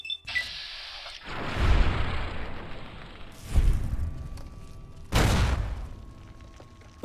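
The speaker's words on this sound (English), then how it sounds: "there's a bit of an explosion there" Recharger weapon explosions in Fallout: New Vegas, three loud separate booms spaced a couple of seconds apart, each a sharp blast trailing into a rumbling decay.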